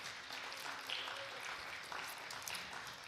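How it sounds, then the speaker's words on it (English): Audience applause for a women's organisation's eighth-anniversary event, a steady wash of clapping from a crowd in a hall that holds at a moderate level throughout, with no voices rising above it. "So round of applause for Women at Work in our 8th year."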